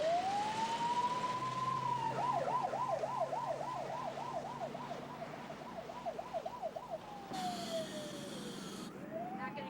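An ambulance siren wails on the road, rising into a rapid yelp and then easing back into a long wail, heard steadily over engine and road noise.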